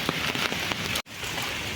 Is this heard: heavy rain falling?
yes